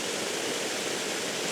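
Foamy moving water with leaves mixing into the foam, a steady broadband rush like a stream or small waterfall, close and continuous with no voices.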